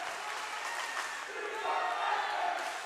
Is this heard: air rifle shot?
no